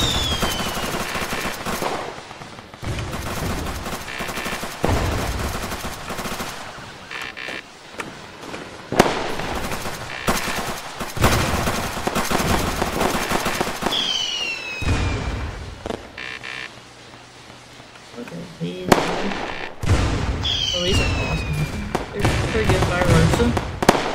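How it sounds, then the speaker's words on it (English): Dense barrages of Roblox ER:LC event fireworks burst and crackle in rapid overlapping volleys with whistling rockets rising between them, loud and nearly continuous, while a voice talks intermittently underneath. "Look at these fireworks"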